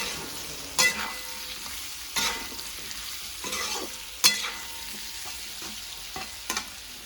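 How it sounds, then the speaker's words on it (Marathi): Amla, or Indian gooseberries, are sautéed in a coarse-ground spice masala for pickle, with a soft frying hiss broken by several distinct spoon scrapes and stirs against the pan, no voices. "आता तो मसाला आपल्याला ह्याच्यामध्ये टाकून घ्यायचा आहे आणि छान असे आवळे त्या मसाल्यामध्ये पुन्हा परतवून घ्यायचे आहेत"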